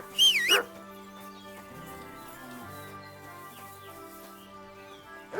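A dog yips and whimpers near a blacksmith's farm setting, a short high-pitched burst at the start followed by quieter ambient sound.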